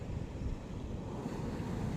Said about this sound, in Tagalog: Ayan umaagos na yung tubig dito.